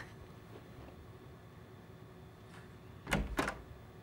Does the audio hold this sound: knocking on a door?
yes